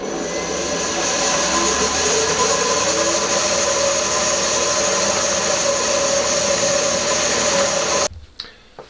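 A power drill bores 5mm holes in aluminium angle, a loud continuous whine with steady high tones holding for about eight seconds before cutting off abruptly, alone without talk.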